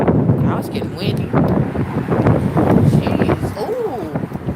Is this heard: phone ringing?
no